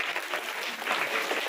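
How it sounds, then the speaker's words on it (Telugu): An indoor audience at a motivational talk claps together in a dense, continuous burst of applause that holds steady throughout, fairly close and without speech over it. "ఒక్కసారి మన క్లాప్ కొట్టుకుందామా"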